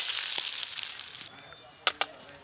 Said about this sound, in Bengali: মুড়োগুলো খুব ভালো করে ভেজে নিয়েছি